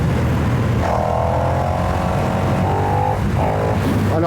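KTM 1290 Super Duke R v3 motorcycle ridden in second gear: a steady engine drone under rushing wind, with a few brief rising tones as the revs shift, and no voices.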